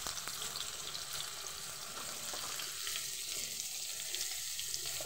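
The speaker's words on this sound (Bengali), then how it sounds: "তেলে একটু ভেজে নেব।" Mixed vegetables frying in hot oil in a wok for a puishak curry, giving a steady, moderately quiet sizzle with faint stirring scrapes throughout and no talking.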